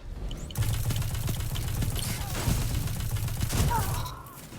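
Gunfight in Destiny 2 with a steady barrage of rapid gunfire lasting about three and a half seconds, dense and close, fading out at the end.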